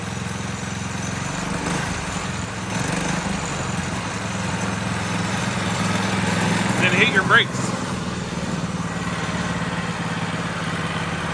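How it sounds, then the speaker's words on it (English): A motorcycle engine idles steadily throughout, with a brief rev near the end while people talk over it. "So now we let it run for a little bit and just idle"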